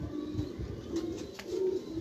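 Pigeons coo softly on a rooftop, a faint low cooing over steady background noise.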